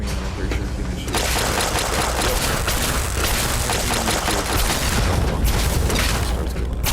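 Heavy, continuous gunfire and booming blasts from the video game Fallout 3 form a dense, loud barrage that barely lets up for the full stretch.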